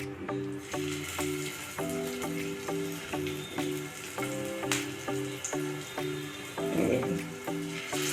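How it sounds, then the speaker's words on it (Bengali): Cabbage koftas frying in hot oil, a steady bubbling sizzle under a repeating mechanical hum, with occasional clinks and a brief louder splash of frying near the end. "এইভাবে আমি এইগুলো ভেজে সব তুলে নিচ্ছি।"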